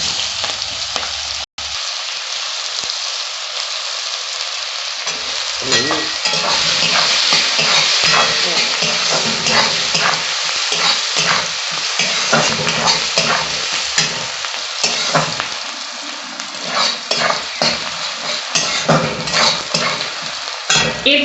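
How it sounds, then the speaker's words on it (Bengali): Onions frying in hot oil with nigella seeds, a loud close sizzle and crackle with frequent stirring scrapes against the pan, continuous for about twenty seconds with no voices. "এবার আমি পেঁয়াজগুলো দিয়ে দেব।"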